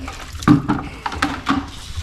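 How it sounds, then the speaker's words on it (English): Water from a newly fitted kitchen tap in Mama's kitchen splashes and gurgles in short irregular bursts, close and fairly loud, with a few sharp spatters. "Having water from a tap is such a blessing"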